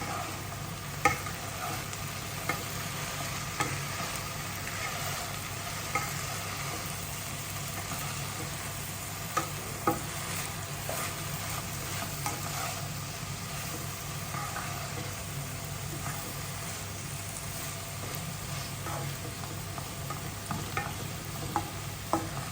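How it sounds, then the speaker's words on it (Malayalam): Ivy gourd stir fry (kovakka thoran) sizzles steadily in a pan while a spoon stirs it, the frying hiss continuous with small scraping clicks scattered throughout. "നമുക്കൊന്ന് തുറന്നിട്ട് രണ്ടാമതൊന്ന് ഇളക്കി കൊടുക്കാം."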